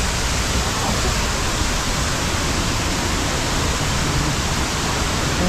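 Hulugan Falls, a waterfall, roars as a dense, steady broadband wash of falling water, loud and unbroken throughout.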